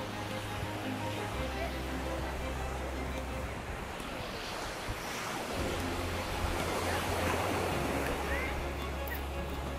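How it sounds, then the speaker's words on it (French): Ocean surf rolls and crashes continuously, a broad roar of breaking waves with wind buffeting the microphone and a low engine-like hum underneath. "Voilà l'océan, les amis."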